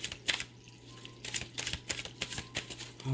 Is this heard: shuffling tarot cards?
yes